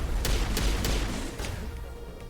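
Rapid bursts of gunfire in Mass Effect: Legendary Edition, several sharp shots close together over a heavy rumbling background, loud at first then trailing off.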